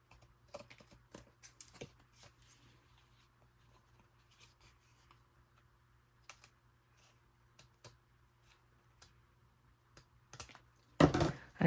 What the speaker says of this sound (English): Now we can cut the excess on the sides.